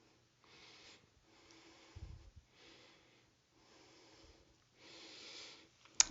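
Steady breathing during a yoga flow, with several long, soft inhale and exhale swells in a slow even rhythm, close and quiet, alone without talk and ending in a short sharp sniff.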